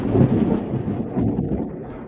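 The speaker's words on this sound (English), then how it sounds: "oh my God, was that lightning?" Thunder rumbles low and heavy after a lightning strike at night, a loud sustained roll lasting the whole stretch with no voices over it.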